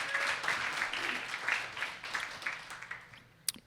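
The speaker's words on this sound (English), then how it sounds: "Round of applause, please." An audience at an alumni brunch claps in a dense burst that gradually thins and fades, with a few scattered claps left near the end.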